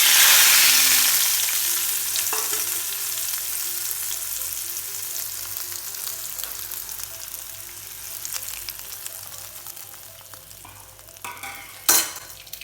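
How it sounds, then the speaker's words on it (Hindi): Garlic, round chillies, cumin and curry leaves sizzle in hot oil for a tadka, a loud hiss at the start that fades to a softer crackle, ending with a sharp clatter near the close. "लहसुन और गोल वाली मिर्चें, जीरा, कड़ी पत्ता, ये बेहतरीन सा हमारा ये बघार बन गया है।"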